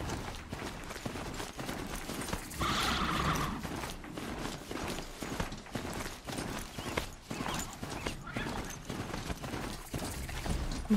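A horse-like machine in Horizon Zero Dawn gallops steadily in rhythmic clip-clop hoofbeats, with a brief neigh-like whinny early on, continuous and moderately loud throughout.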